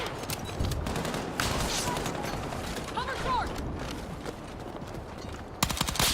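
Rapid gunfire from a weapon in Battlefield 6 rattles in quick bursts with a steady battle din behind it, and a voice speaks over the shooting.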